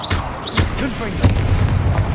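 A Confringo blasting spell explodes in Hogwarts Legacy: one sharp burst near the middle over a rumbling low bed of game sound, with brief whooshing spell effects before it.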